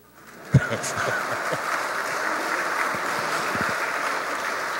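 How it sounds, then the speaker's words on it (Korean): Audience applause at a lecture hall retreat follows a recited verse of Dante, a steady, moderately loud wash of clapping after a sharp opening thump, with some low knocks scattered through. "이런 것을 외우면 보통 다른 데서는 박수를 치는데"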